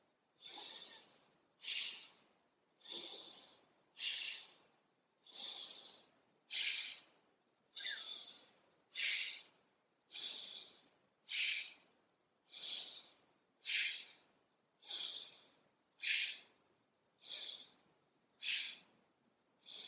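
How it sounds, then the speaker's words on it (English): Slow, regular breaths drawn through a narrowed passage, each a hissing, sniff-like rush, about fifteen in a steady rhythm, close and fairly quiet. "constricting your breath as if you're plugging your nose, so it's going to sound more like a sniffing sound"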